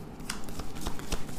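Tarot cards from the Major Arcana being shuffled and drawn, giving soft papery riffles with several crisp flicks and snaps at a steady pace, close and moderately quiet.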